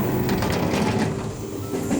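A cartoon electric train runs with a steady rattling, clattering rumble, close and continuous for the whole stretch, with no talking over it.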